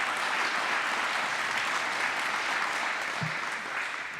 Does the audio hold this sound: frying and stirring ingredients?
no